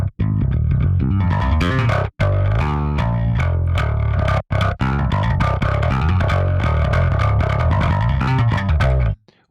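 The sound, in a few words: clanky B distortion plugin on bass high end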